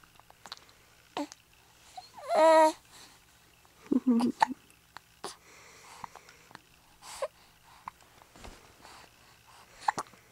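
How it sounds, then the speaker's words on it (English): A baby hiccups in the morning, with short, sharp squeaky hiccups spaced irregularly across the clip, close to the microphone, alongside quiet breathing and an adult's soft voice. "You got naughty hiccups."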